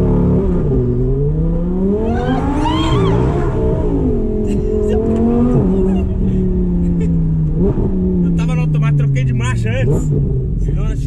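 An Audi R8 sports car accelerates, its engine rising and falling in pitch through steady revving while people talk over it almost the whole time.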